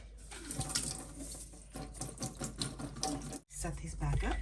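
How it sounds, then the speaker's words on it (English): Cold tap water runs over bean sprouts sprouting in a jar, a close splashing rush with uneven rinsing bursts and a brief break near the end. "Let's give them another rinse in cold water."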